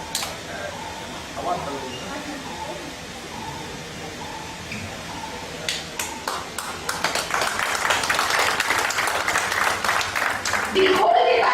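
A crowd at a book release ceremony in India applauds, with scattered claps growing into dense, steady clapping that gets louder toward the end after some quiet talk in the room.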